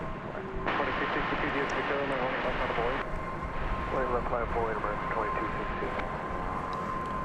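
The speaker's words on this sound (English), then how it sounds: "I believe that's the American Dreamliner there, headed to Chicago." An American Airlines Dreamliner taxiing at DFW at night: a steady jet engine whine and broad roar hold throughout, moderately loud at a distance, with a voice talking over it.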